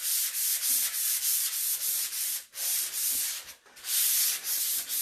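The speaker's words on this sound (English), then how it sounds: "I'm going to do this, sand this side really quick too." Sanding the side of a chalk-painted vanity by hand, a steady rhythmic scratchy rubbing of back-and-forth strokes, close and loud, with brief pauses between passes and no talking.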